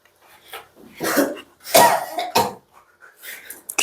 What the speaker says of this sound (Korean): 기침을 너무 죽을 것 같이 하는 거 아니야?